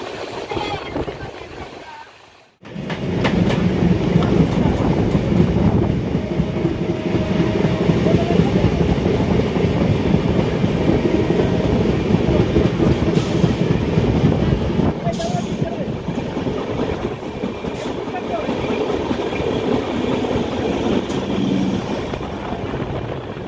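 A long-distance express train running steadily on rails between Kolkata and Jammu, a continuous loud rumble and rattle of wheels heard from inside the carriage after a brief quiet moment at the start, with occasional clacks at rail joints.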